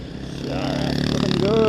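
A Honda CRF motorcycle engine rises in pitch as the bike rides past on a lightly sandy track at an adventure rally, getting steadily louder toward the end.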